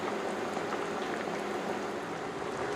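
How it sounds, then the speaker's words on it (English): Chicken stew sauce simmering in an uncovered saucepan over medium heat, a steady close bubbling and popping hiss that stays even throughout with no voices. "continue cooking with saucepan uncovered until the sauce has the thickness to my liking"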